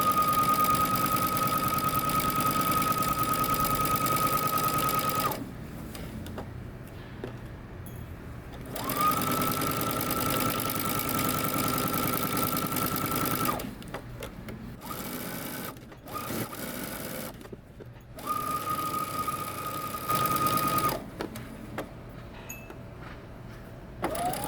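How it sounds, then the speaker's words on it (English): A sewing machine stitches across the top of a garment while understitching. It runs in several long, steady whirring bursts, separated by short pauses and light handling noises. "Now we're going to go ahead and stitch across this top, understitch, and then finish off the front ends."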